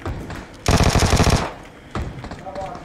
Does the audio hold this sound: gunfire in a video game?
yes